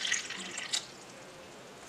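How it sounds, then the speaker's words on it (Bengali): Water poured from a cup into a cooking pot for homemade raw green mango jam, a fairly faint, splashy trickle with a brief louder splash partway through and no talking. "এখানে আমি 3 কাপ জল দিচ্ছি"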